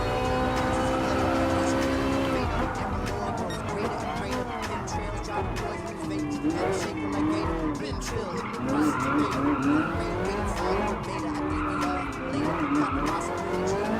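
A Ferrari 458 Italia races around Fuji Speedway in Gran Turismo Sport, its engine revving and shifting through gears with tire squeal, while a voice talks over the racing throughout.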